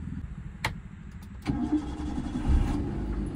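A couple of sharp clicks, then the engine of a 2009 Maruti Suzuki Wagon R LXi turns over and settles into a smooth, low idle close by.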